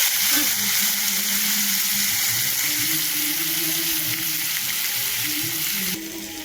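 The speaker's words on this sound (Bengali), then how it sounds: "এবার এসে আমি আলু কাটুয়ার ডাঁটাটা এই তেলের উপরে ছেড়ে দিলাম।" Vegetable stalks (alu katuya stalks) sizzling in hot oil with cumin, a steady loud fry that fills the whole clip, with light stirring and a slight drop near the end.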